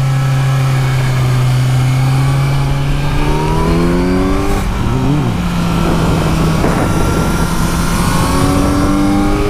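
A 2017 Kawasaki Z900 motorcycle engine accelerates loudly and up close, its tone climbing steadily through the gears with brief shifts between pulls and a continuous droning roar throughout.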